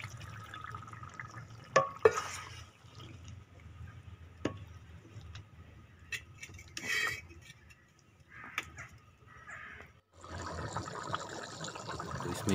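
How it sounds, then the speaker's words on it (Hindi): Water is added to a cooking pot in a kitchen: quiet pouring and splashing with scattered drips and clinks, then a louder steady pour near the end, faint and close. "अब इसमें थोड़ा पानी लगाएंगे।"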